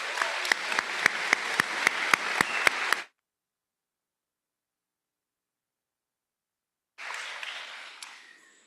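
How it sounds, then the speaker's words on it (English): Audience applause at a college commencement ceremony, a dense steady clapping for about three seconds that cuts off into silence, then a fainter burst of clapping returns near the end. "How about from the students, a round of applause to thank all those folks."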